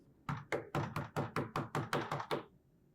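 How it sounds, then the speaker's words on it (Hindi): Nine firm knocks on a door in a domestic setting, a steady, evenly spaced series of hollow raps heard close and alone with no talk. "साहिर, दरवाजा देखो प्लीज"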